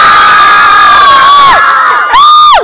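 Crowd and cheerleaders at a state championship cheering loudly, with sustained high shouting and whooping voices that swell and dip throughout, densely packed and close.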